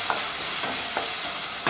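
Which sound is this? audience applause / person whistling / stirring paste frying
stirring paste frying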